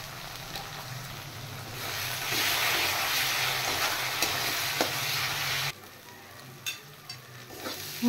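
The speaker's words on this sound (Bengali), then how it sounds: "এবার আমি একটু মশলাটা কষিয়ে নেব।" A ground paste of cumin and ginger being stir-fried in a pan for a fish curry, a dense hissing sizzle with spoon scrapes that drops suddenly to a quieter sputter with a few clinks near the end.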